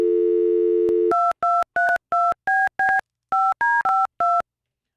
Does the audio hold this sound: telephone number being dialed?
yes